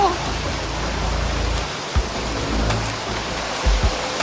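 Steady rain during flooding in Marilao, Bulacan hisses continuously on surfaces, with occasional low thumps and knocks breaking through the wash of noise.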